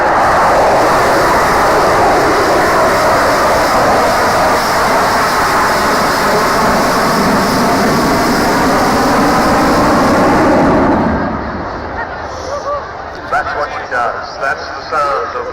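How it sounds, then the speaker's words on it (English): A loud, roaring rumble of an Avro Vulcan bomber's four Rolls-Royce Bristol Olympus jet engines swells and sustains close by at Dunsfold, then drops away as the aircraft passes, leaving fainter background noise. "That's the sound of 4 Rolls-Royce Bristol Olympus engines"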